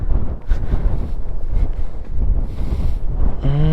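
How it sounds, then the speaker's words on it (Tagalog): Strong gusting wind buffets the microphone at a beach, a loud continuous roar with surges, ending in a brief tonal sound. "Lakas ng hangin."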